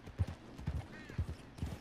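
Horse hooves clip-clop in a quick, regular rhythm as a horse picks up speed in the Red Dead Redemption 2 video game, four or five close, distinct beats.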